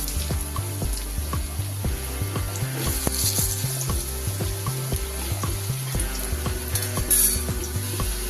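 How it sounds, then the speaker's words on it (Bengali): Potatoes frying in hot oil in a pan, an even, moderately loud sizzle with faint crackles, accompanied by a steady rhythmic musical backing. "এবার আলুগুলো আমি ভেজে নিই।"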